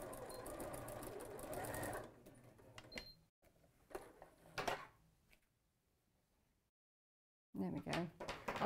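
A sewing machine stitches a cat or dog tote bag in rapid bursts at close range, then slows to sparse stitches, falls silent, and starts up fast again at the end.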